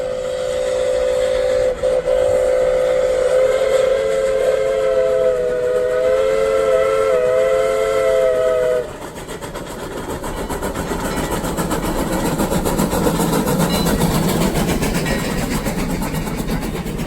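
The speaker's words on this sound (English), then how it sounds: "stay put until the train gets past" A loud steam whistle blows steadily for several seconds, then cuts off, leaving the heavy rumble and clatter of a passing narrow-gauge Sierra Railway double-header train.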